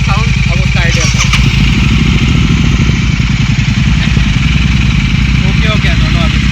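A Royal Enfield GT 650 motorcycle with aftermarket exhausts idles loud and close, a rapid, even thumping beat with metallic clatter, while voices talk over it.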